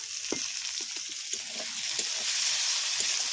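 Ginger and garlic sizzling in hot oil in a pan, a steady bright frying hiss with soft stirring clicks and scrapes at intervals, close and continuous, no one speaking.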